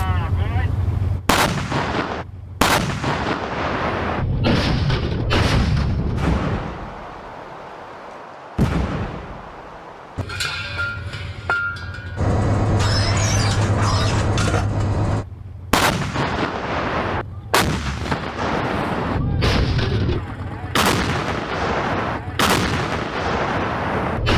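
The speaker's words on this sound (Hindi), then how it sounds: "उधर रूस ने यूक्रेन पर कई बार तोपें दागी हैं आज।" Artillery fire from Russian shelling in Ukraine, heard as a long series of loud sharp booms and blasts at irregular intervals, some close together, over a continuous rumbling background.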